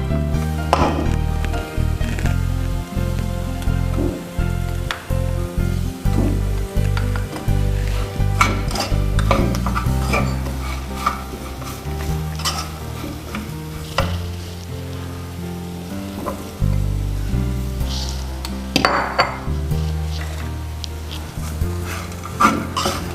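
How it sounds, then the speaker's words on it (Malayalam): Chopped dates and roasted raisins are stirred in a pan while making dry fruit laddu, with a spoon scraping and tapping repeatedly against the metal over a soft sizzle, close and steady, with no talk. "കട്ട് ചെയ്ത് വെച്ച ഡേറ്റ്സ് ഇട്ട് നന്നായി മിക്സ് ചെയ്തെടുക്കുക"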